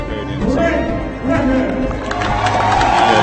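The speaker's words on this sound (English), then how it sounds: "Crowd got a bit excited here for Great Britain" Spectators cheering loudly at the European Archery Championships recurve team finals as Great Britain takes second place. A dense, steady roar of voices and clapping fills the whole stretch at close range.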